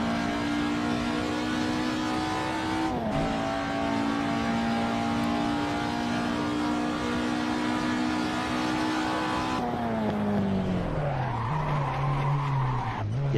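Race car tires skidding and squealing under wheel lockup during a lap, a loud sustained screech over the engine tone, which drops in pitch as the car slows.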